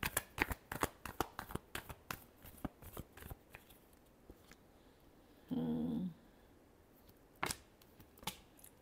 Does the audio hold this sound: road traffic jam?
no